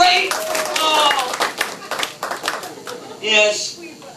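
A comedy-show audience breaks into a short burst of dense clapping, which thins out as a voice talks over it, followed by laughter near the end.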